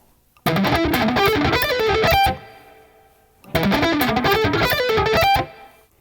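Distorted electric guitar plays a fast string-skipping pentatonic arpeggio at full speed, two dense bursts of rapid picked notes, each ending and ringing out before the next, loud and alone.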